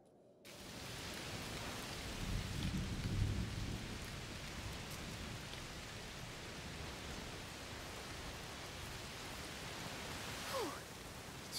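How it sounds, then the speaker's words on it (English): A heavy thunderstorm hisses with constant rain while a low rumble of thunder swells near the start and fades, leaving a steady wash of downpour throughout. "Must be a heat storm."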